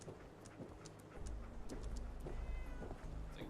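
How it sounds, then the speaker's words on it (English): A house cat in the Fallout 4 video game meows a few times, faint and short, over a low game ambience with soft ticking. "I'm gonna kill the house cat."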